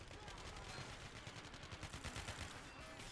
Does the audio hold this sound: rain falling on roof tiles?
no